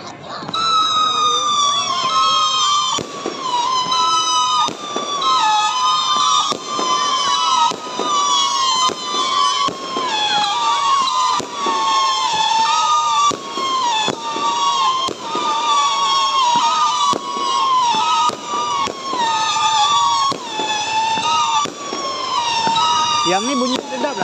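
Nonstop fireworks during Hari Raya celebrations in Banting, Labohan Dagang, with loud whistling rockets rising in pitch and sharp bangs repeating every second or two, close and continuous.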